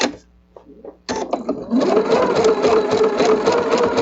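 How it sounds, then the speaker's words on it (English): A sewing machine stitching a small zigzag appliqué onto a quilted wall-hanging starts after a brief quiet moment and then runs as a loud, steady, rattling motor hum. "And I'm going to use a small zigzag stitch."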